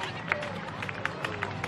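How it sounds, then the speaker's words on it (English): Cricket crowd at Hurstville Oval applauding the winning Sydney Sixers after a Women's Big Bash League match, scattered claps and crowd noise under a commentator's voice. "the crowd give them a warm round of applause"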